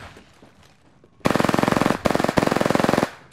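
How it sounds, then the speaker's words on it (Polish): Automatic weapon fire in the video game Apex Legends, loud and close: two rapid bursts of evenly spaced shots, broken by a short gap, with no talk. "Zaczynam ostrzał."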